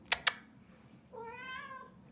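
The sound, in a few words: cat meowing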